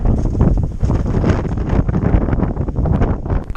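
Strong, steady wind roars and buffets a microphone on the exposed summit ridge of Poland's tallest mountain, loud and continuous without a break.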